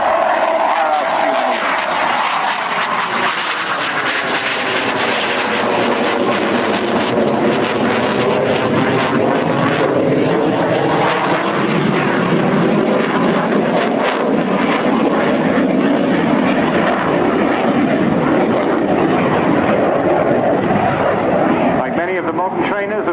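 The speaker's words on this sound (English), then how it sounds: "he's going to perform now a tricky maneuver because slowish roll with the undercarriage down. Flying that at just 180 knots" Aero L-159A ALCA jet making a slow low pass with undercarriage down at about 180 knots at an air show, a loud sustained roar with shifting pitch from the passing engine, with a commentator talking over it throughout.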